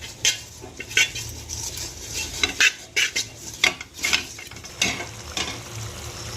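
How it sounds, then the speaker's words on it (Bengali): Potato biryani ingredients being mixed in a pot with rose water, kewra water and attar, a run of scraping and clinking stirring strokes against the metal in an uneven rhythm, close and moderately loud, with no voices. "হাঁড়ির মধ্যে আমি মাখিয়ে নেব"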